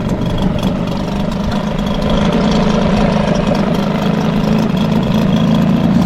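A Hangkai outboard boat motor idles a little low, a steady close mid-low engine drone with a faint uneven knock running through the whole stretch, no voices.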